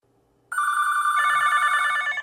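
A telephone rings at a busy police station, a single sustained electronic bell tone that starts abruptly and holds loud and close for nearly two seconds before cutting off.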